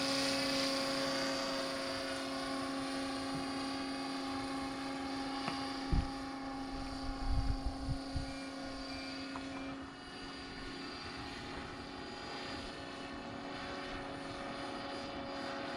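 A scale RC helicopter in forward flight on a slightly bumpy morning, its rotor and motor giving a steady, continuous whine with a few brief low thumps near the middle.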